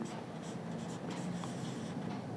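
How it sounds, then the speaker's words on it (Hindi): Steady soft scratching of writing on a surface during a Hindi maths lesson on the area of an umbrella, continuous and faint, with no talk over it. "तो हम लोग यहाँ पर लिखेंगे"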